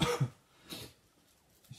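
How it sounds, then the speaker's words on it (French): A man coughs a couple of times close by, short harsh bursts followed by quiet, alone with no talking. "Si t'entends quelqu'un qui tousse, c'est normal,"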